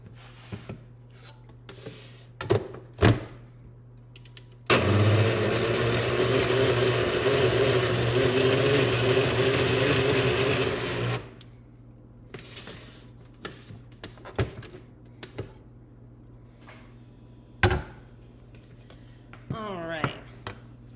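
Fruit Loop cupcake batter is mixed with milk, likely by an electric mixer. A steady whirring drone runs for about six seconds near the start, with scattered bowl clatter and handling knocks before and after it.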